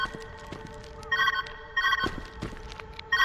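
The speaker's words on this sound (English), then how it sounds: "Where's that ringing coming from?" A telephone rings in the video game Viewfinder. The electronic bell trills in three separate bursts over a steady, quiet background hum, fairly loud and close.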